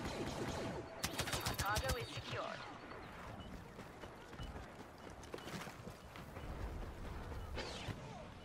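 Blast cannons fire in Star Wars Battlefront in rapid bursts of sharp, crackling shots, with other gunfire and explosions busy in the background and a voice faintly under it.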